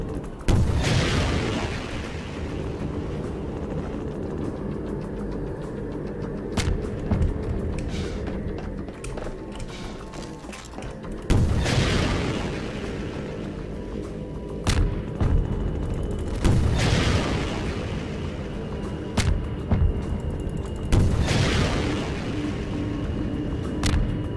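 Rocket launcher explosions in the Half-Life 2 video game, about four heavy booms spaced several seconds apart, each followed by a rumbling decay over ongoing combat noise.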